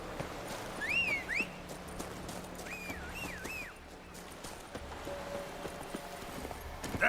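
A horse's hooves clip-clop at a steady walking pace in the video game The Witcher 3, moderately near, with whistled notes and faint game ambience around them and no speech.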